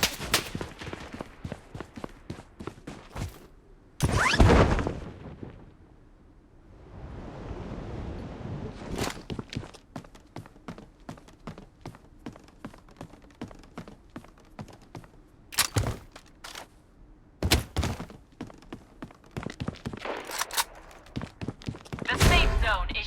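Gunfire in the shooter game Blood Strike: rapid volleys and single sharp shots crack out repeatedly across the stretch, several loud and close, others quicker and lighter, over a steady windy ambient bed.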